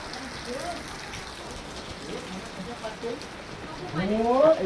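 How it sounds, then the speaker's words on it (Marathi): Steady rain falls during the first rain of the season, with a storm and wind, making a constant hiss throughout. A person speaks excitedly over it, and the rain and voice grow louder near the end. "बघ ऐकर ऐकर पाऊस"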